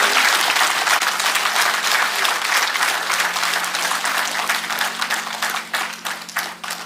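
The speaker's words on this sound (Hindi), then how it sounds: "तालियों की कमी नहीं होनी चाहिए देवी सज्जनों।" Sustained audience applause at a seminar on the environment, with many hands clapping steadily and loudly across the whole stretch, thinning slightly toward the end, with no speech over it.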